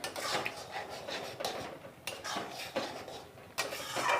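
Carrot halwa with cashews and raisins is stirred in a pan, giving a run of close metallic scrapes and clinks in uneven bursts with sharper knocks between them, and no voices.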